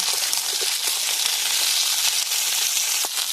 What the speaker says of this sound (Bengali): এখানে আমি সিম আর কড়াইশুঁটি কেটে রেখেছি, ওগুলো দিয়ে দিলাম। দিয়ে আমি ভালো করে এগুলো ভেজে নেব।